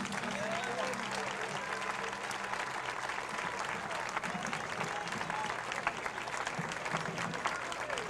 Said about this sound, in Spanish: Dale un aplauso fuerte al Señor Jesús.